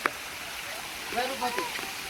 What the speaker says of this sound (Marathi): हा बघा किती मोठा धबधबा आहे